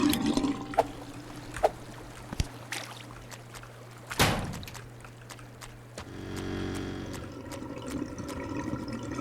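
Water rushing and trickling through a flooded drain in the video game Drain Sim, a steady low wash that swells near the end, with scattered clicks and a brief louder splash midway.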